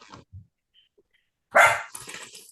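A dog barks indoors during a woodturners' online meeting: a couple of faint yips early on, then a sharp loud bark and a burst of further barking toward the end.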